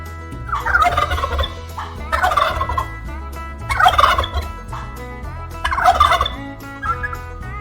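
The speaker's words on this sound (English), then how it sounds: "Turkey." A farm turkey gobbles in four loud, rapid rattling bursts spaced about every second and a half, each call close and clear with no talk over it.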